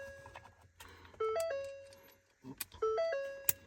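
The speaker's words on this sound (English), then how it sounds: "Sorry about the chime." A 2013–2017 Ford Explorer's warning chime sounds in two clear repeating bursts of descending electronic tones, fairly quiet, with faint clicks and clunks in between.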